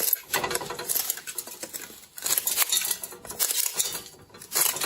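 Hard, dry chaga mushroom cracked and snapped apart by hand into small chunks, giving a run of close, crisp crackles and brittle breaks in irregular bursts.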